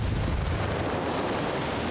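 A frag grenade goes off in Ghost Recon Wildlands as a dense, loud, roaring burst that fills the whole short moment, with no voices over it.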